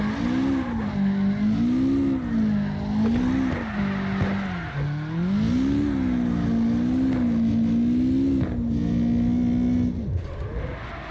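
In CarX Drift Racing Online, a car drifts on the handbrake, its engine note rising and falling in a loud, wavering whine over a hissing tire slide, then cutting off near the end.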